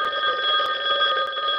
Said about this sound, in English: with the phone ringing and stuff, I don't want to make a noise mess